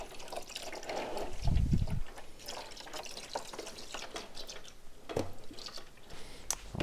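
Coolant drips and trickles from an SV motorcycle's expansion tank after its return hose is removed, a soft irregular patter of liquid with a brief louder splash, heard close by with no talking.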